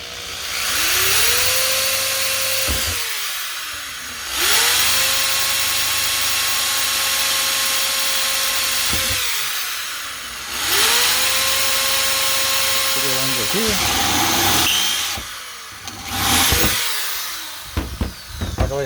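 Power drill boring through thin body sheet metal on a 1969 Corvette C3 passenger door, three sustained whining bursts separated by short pauses, close and fairly loud.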